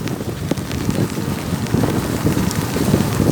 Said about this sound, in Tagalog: Oh, wala pong tigil yung ulan.